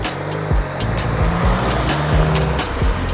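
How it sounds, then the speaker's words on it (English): A car passes on a road during a bike ride, its engine and tire noise rising and falling amid steady road rumble and wind, loud and close throughout. "one second, there's a car"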